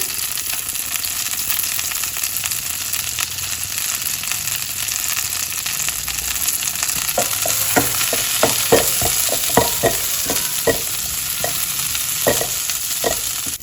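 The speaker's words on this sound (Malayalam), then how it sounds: "ഇനി ഇതിനകത്തേക്ക് തന്നെ മുരിങ്ങയിലയും കൂടി മിക്സ് ചെയ്യുവാണേ" Drumstick leaves are stirred into shallots and curry leaves frying in oil, giving a steady sizzle that turns to a run of rhythmic spoon scrapes and taps against the pan in the second half.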